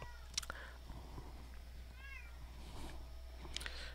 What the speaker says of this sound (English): My cat is screaming at me